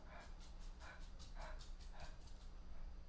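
A small puppy in an online horror video game gives a rhythmic series of faint, evenly spaced yips and barks over a steady low hum.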